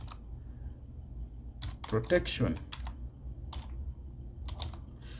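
Bursts of typing on a computer keyboard, quick clusters of clicking keystrokes near the middle and end, close and distinct, with someone speaking briefly alongside.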